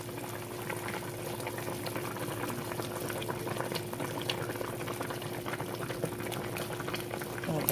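A big pot of spicy peanut boil at a rolling boil for about an hour, a steady close bubbling and churning that runs throughout with no voices.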